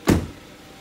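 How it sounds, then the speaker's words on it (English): A single sharp thunk as the hood latch releases on a white 2017 Jeep Compass Trailhawk 4x4 SUV with a 2.4-liter inline four-cylinder engine, close and brief, followed by quiet. "let me go ahead and jump out and we'll pop the hood"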